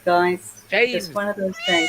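A pet cat meows in short harmonic calls, close and fairly loud, mixed in with people talking over the sound.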